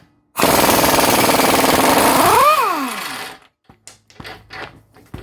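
An impact wrench hammers loose a shock bolt on an Audi A4 B7 rear suspension. One loud, rapid rattling burst lasts about two seconds, then winds down, followed by faint clinks of the loosened parts.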